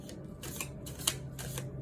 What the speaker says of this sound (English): We did shuffle 3 times.